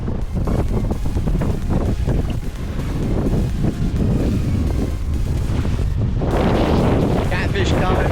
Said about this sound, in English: That wind's picking up and that swell's coming in